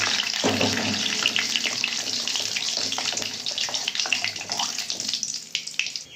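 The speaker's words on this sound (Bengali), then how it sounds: "সর্ষে ফোড়ন দিয়ে অল্প সর্ষে দিয়ে দিলাম।" Mustard seeds tempering in hot oil, a dense, steady crackle and sizzle close up, with sharp pops scattered throughout the few seconds.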